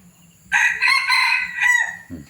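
A single full crow from a young red junglefowl hybrid rooster, about a year old, rings out loud and close in a sustained multi-part call, followed by a brief low sound at the end.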